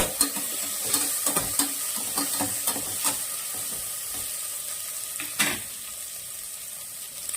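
Green chillies and fresh coriander leaves sizzle in hot oil while a spatula stirs and scrapes the pan in quick irregular strokes, a close, steady frying hiss with clicks bunched early and a louder scrape near the end.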